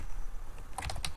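Typing on a computer keyboard: a quick run of light key clicks near the end, close and fairly quiet, with no voices.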